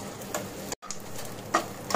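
Edible gum (gond) frying in hot oil for a Janmashtami panchmeva paag sweet, a soft steady sizzle with faint crackles and a couple of sharper pops near the end, heard alone.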